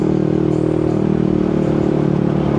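A Yamaha Nmax 155 scooter fitted with an open VMAX Racing muffler idles and revs close by, giving a steady, loud, throaty engine drone that runs continuously with no talking.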